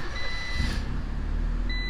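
A warm Honda CRX engine idles in a steady, even low rumble after a throttle cable adjustment, holding close and constant with a faint thin tone above it.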